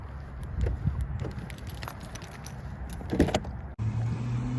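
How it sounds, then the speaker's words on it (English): A Honda Accord being moved nearby, with a steady engine rumble, door and key-like clatter, and a brief drop as the car shifts before the idle resumes. "I'm actually gonna move this car."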